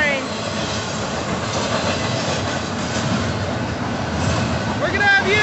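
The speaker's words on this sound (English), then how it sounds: "this was an actual intermodal train, but yeah, tanker cars mixed in" Northbound Union Pacific intermodal freight train with tanker cars mixed in, led by three locomotives, rolling past close by with a steady loud rumble, wheel-on-rail clatter and a few brief high squeals near the end.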